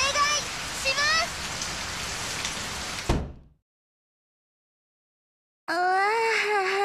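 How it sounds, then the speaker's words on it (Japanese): Heavy rain in the Bang Dream Girls Band Party video game hisses steadily under higher tonal voices, cuts to silence, then returns with the voices. "雨に声がかき消されて全然届かない。"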